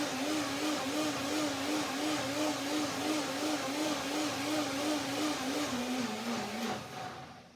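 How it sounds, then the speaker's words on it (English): A blender runs steadily, whirring through a batch of macadamia mayonnaise with a wavering motor pitch. It holds one continuous, loud run for several seconds, then slows and winds down at the end. "Just a small amount of blending, a small shot blending."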